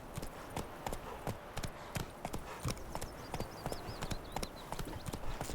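Hooves of the horse Roach galloping in The Witcher 3, a steady rapid clip-clop beat that stays loud and even throughout, with faint wind and ambient game sound behind it.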